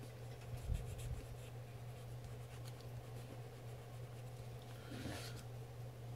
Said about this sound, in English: I'm going to take my mango pencil and I'm just going to go around the edges to color them up.